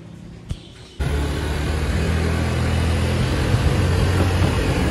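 A serviced Piaggio Zip scooter engine starts after a brief click and then runs steadily at idle, a loud, even, close mechanical hum with no speech.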